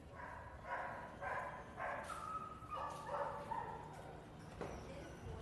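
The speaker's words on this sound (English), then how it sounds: "Now we're going to go to the doggies down this way." Several dogs bark in short repeated bursts at a moderate distance, with faint noisy background and a voice murmuring at times.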